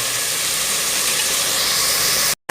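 Tomatoes sauté in oil in a pan for South Indian sambar, giving a loud, steady, broad hiss that cuts off abruptly near the end.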